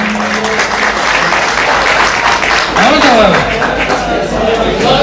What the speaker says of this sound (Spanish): a darle muchísima fuerza a Rosalinda, a quien pido un fuerte aplauso